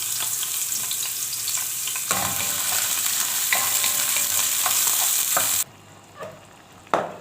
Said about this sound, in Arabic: ننزل بالبصل، بصليه كده مخرطينها